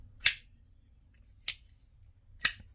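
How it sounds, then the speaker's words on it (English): Three loud, sharp metallic snaps as a titanium frame lock HEST/F 4.0 Ti folding knife is flipped open with force, evenly spaced about a second apart, close up with no speech. "And when you deploy it, it is super loud."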